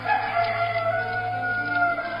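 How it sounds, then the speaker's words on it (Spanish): A rooster crows in one long, drawn-out call that fills the clip, sounding fairly close and prominent over a steady low background hum. "el gallo cantó"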